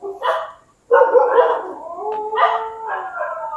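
A dog howls loudly and close by, starting with a short yelp, then a long wavering howl that rises and falls over several seconds.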